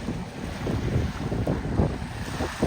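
Large motorboat powered by four Mercury 300 outboard engines passing on open water off a Florida island, a low rumbling engine drone mixed with wind buffeting on the microphone and water wash, fairly close.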